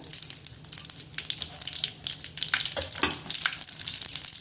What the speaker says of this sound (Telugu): ఆయిల్ వేడెక్కిన తర్వాత పోపు వేసుకోవాలి. ఆవాలు, జీలకర్ర, కొద్దిగా మెంతులు,